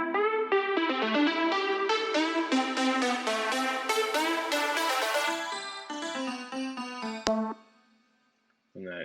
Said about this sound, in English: So the leads in the build up sound like this.